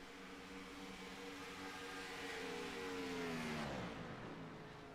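In an iRacing sim race, a race car engine drones steadily, then its pitch sweeps down as the engine cuts off going into a corner, moderately loud with no talking.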